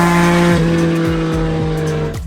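A Yamaha MT-09 motorcycle engine drops in pitch under hard braking with the ABS working, close and loud with a tire-squeal edge and a rhythmic pulsing as the revs fall.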